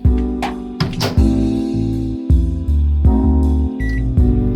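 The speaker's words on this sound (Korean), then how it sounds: "전자레인지에 넣고" A steady low electrical hum of a running microwave oven heating pizza, loud and close, with a few brief clicks and rattles breaking the drone.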